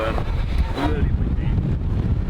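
Strong wind buffets the microphone with a steady low roar at Nadeshiko Stadium in Omiya, Japan, during a football match, while faint voices murmur in the background.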